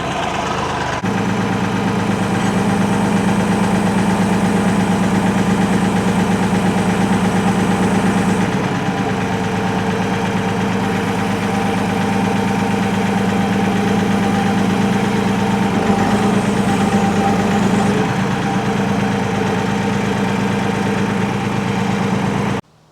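A tractor engine idles steadily with a rototiller attached, a loud, constant low rumble with a slight knocking vibration that runs unbroken for the whole stretch before cutting off at the end.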